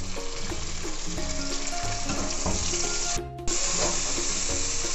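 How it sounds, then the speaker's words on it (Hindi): Onions, ginger, garlic, tomatoes and a green chilli fry in a pan for a Hyderabadi arvi gosht curry. The sizzle is loud and constant, with stirring knocks and one brief dip in the hiss. "टमाटरों को हम 1 से 2 मिनट फ्राई करेंगे"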